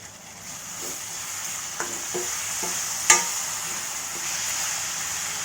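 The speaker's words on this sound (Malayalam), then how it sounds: "ഇപ്പോൾ നമുക്ക് ഇതിൻ്റെ ലിഡൊന്ന് മാറ്റിയിട്ട് നന്നായിട്ടൊന്ന് സ്റ്റിർ ചെയ്ത് കൊടുക്കാം" Okra tarakari palya stirred in a pan once the lid is off, a few spaced spatula taps and scrapes over a soft, steady sizzle, with one sharper metallic knock midway.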